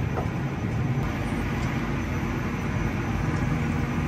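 An under-deck winch machine slowly spools wire across its drum, giving a steady, continuous low mechanical rumble and drone with no breaks and no clear individual clicks.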